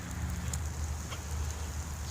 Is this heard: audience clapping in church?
no